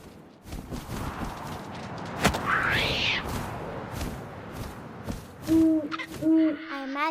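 An owl hoots in the video game What Remains of Edith Finch, with two or three low, rounded hoots near the end after a stretch of rustling, wind and soft footstep-like thuds.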